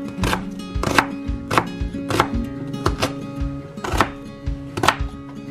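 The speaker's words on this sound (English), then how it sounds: "Let's chop our onion." Onion chopped with a knife on a board, with about a dozen crisp, evenly spaced knocks heard up close and no talk.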